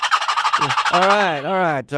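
Wild turkey gobble imitated by a champion turkey caller using his voice alone, a loud, close rapid rattling gobble that runs into a long wavering, rising and falling call, with a brief break near the end.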